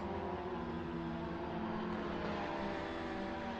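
A V6-powered Peugeot 308 touring car in a sim racing game at the Red Bull Ring, its engine a loud, steady droning roar held throughout, with no talk.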